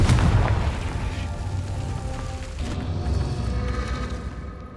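Booming blast from the Confringo fire spell in the video game Hogwarts Legacy, a loud low burst at the start followed by a sustained rumbling roar that lingers throughout.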